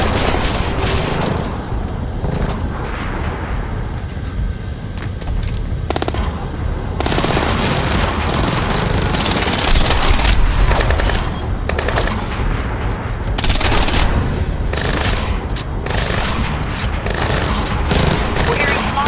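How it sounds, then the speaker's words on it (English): Small arms gunfire in Splinter Cell Blacklist, loud rapid automatic bursts and scattered shots with occasional booms, continuing almost without pause, with some voices heard during the firing. "We're hearing small arms fire in the terminal, Sam."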